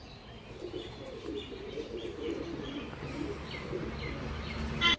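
Pigeons coo softly in low, rolling murmurs close by, with faint chirps and a brief flutter at the end.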